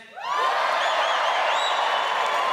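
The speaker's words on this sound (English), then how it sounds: "Who's from London? Gives a cheer." A London crowd breaks into loud cheering and whooping that rises quickly and holds steady, a near, energetic wall of voices with no single speaker.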